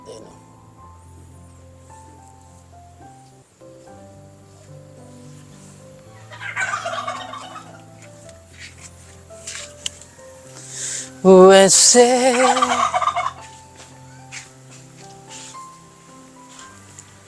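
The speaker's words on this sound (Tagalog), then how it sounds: "Yung pabo lagi na dito pag nandito ako na tayo." A turkey gobbles loudly nearby in two bursts, a shorter one then a louder rattling call, over quiet background music and voices.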